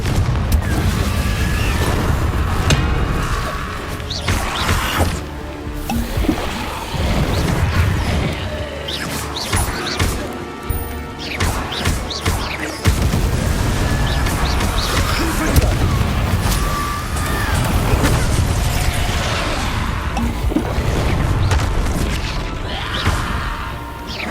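Booming blasts and crashes from a Confringo explosion spell in the video game Hogwarts Legacy, dense loud impacts piling up continuously with game effects and background score, with a voice faintly mixed in.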